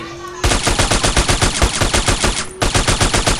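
Rapid automatic gunfire in the video game MTA, a loud close burst of evenly spaced shots that runs for about two seconds, breaks briefly, then resumes.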